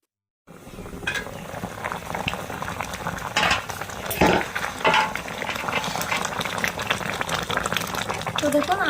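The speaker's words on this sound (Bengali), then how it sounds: "সেদ্ধ হতে থাকুক।" Amra (hog plum) fruit simmering in a pot of sugar and jaggery syrup, with a steady bubbling sizzle and occasional clinks and stirring scrapes from a utensil against the pan throughout.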